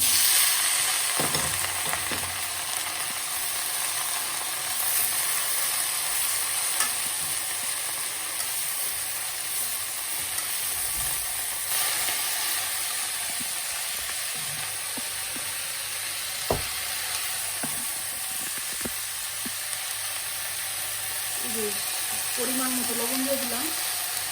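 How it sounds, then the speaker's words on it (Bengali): Red amaranth greens tossed into a pan of fried onions give a steady, continuous sizzle of frying, with occasional soft scrapes and clicks of stirring throughout. "এখন শাক এই যে লাল শাকটা দিয়ে দিলাম"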